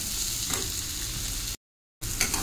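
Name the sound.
potatoes frying in a pan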